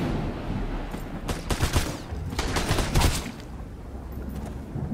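Gunfire in the survival video game Sunkenland during a raid on an enemy outpost, with dense bursts of rapid automatic shots and overlapping fusillades in several clusters, loud and sharp over a steady background rumble.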